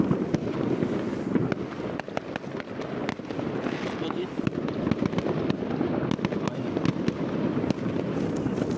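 Fireworks bursting on New Year's Eve in Denmark: a dense, steady barrage of sharp cracks and booms, some close and loud, layered over continuous rumbling and crackle, with voices talking in the background.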